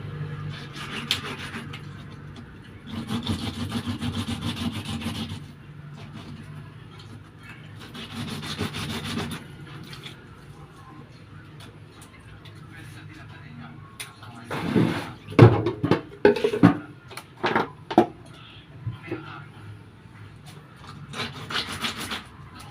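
A snakehead fish is scrubbed by hand to strip off its slime, giving a steady wet rubbing and scraping in bursts, with sharper clattering handling sounds near the end.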